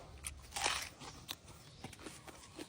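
Someone bites and chews Thai raw shrimp salad, soi ju goong, with fresh vegetables and neem flowers, giving faint close crunches and wet mouth clicks in an irregular rhythm.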